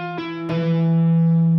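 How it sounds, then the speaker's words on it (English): Electric guitar played legato with selective picking and hammer-ons: a few sustained notes that ring smoothly into each other, with a couple of light attacks near the start and a brief fresh attack at the end, no voice. "Here's an example of selective picking."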